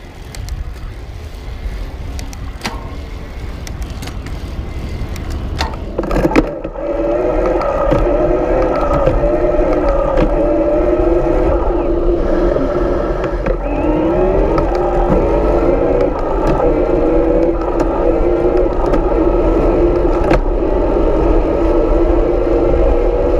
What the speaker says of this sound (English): maybe you can listen for the motor as I change gears